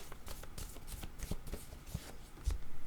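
Oracle word cards being shuffled by hand and drawn, heard close and fairly quiet as a quick series of papery flutters and soft slaps, with no talking.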